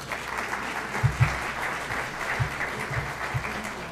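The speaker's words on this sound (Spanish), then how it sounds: "La recibimos con un fuerte voto de aplausos, por favor." Audience applause at a plenary conference session, steady moderate clapping with a few louder close claps standing out over the crowd wash.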